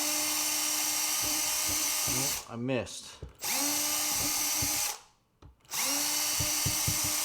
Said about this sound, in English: take your small drill bit